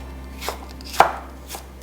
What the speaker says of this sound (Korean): 채소는 가급적이면 곱게 썰어주시면 좋을 것 같아요.